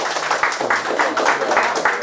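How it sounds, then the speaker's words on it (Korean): An indoor audience at a Korean press gathering claims a short burst of applause, with steady dense clapping that pulses along, moderately loud and close. "아무튼 그분들한테 한번 박수 한번 쳐주시죠."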